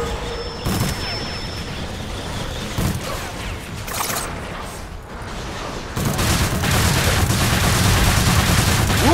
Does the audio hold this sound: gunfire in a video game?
yes